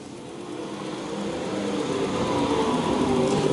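Race cars circle the Lakeside track in a main event, a distant, steady engine roar that builds gradually with no one talking.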